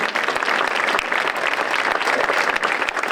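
A crowd claps dense, continuous applause after a baroque concert at a former convent, steady and fairly loud from start to finish with no talking.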